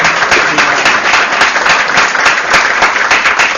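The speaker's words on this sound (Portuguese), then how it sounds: "uma salva de palmas a mais" An audience at an engineering lecture claps steadily for several seconds, a dense, even wash of many hands with no voices over it.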